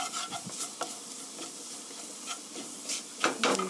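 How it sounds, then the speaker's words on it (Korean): Flour being stir-fried in a pan to thicken a cream sauce for boiled potatoes: soft scraping stirs and faint sizzling, quiet and close, with a few sharper utensil scrapes near the end. "소스가 걸쭉하게 하기 위해서 밀가루로 이렇게 같이"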